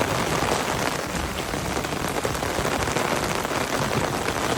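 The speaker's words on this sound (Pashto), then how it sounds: "باران تقریبا 3 ورځې به وریږي" Rain falls steadily onto surfaces, a dense, even hiss of drops that stays close and loud for the whole stretch with no one speaking.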